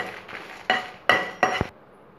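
Dried red chillies being roasted in a pan for tamarind rice spice powder: a few distinct stirring scrapes and clinks of the spoon against the pan, with a soft sizzle in the short pauses between them.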